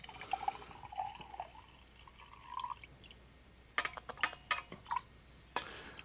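Liquid fuel poured from a container into a Coleman 202 Professional camp stove on a workbench, faint trickling and dripping in short bursts with small splashes, quiet and close, separated by pauses.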